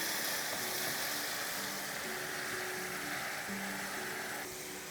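Food sizzles steadily and loudly in a hot pan, a dense continuous frying hiss pressed down for a quick sear, with faint tonal clinks underneath and no talking.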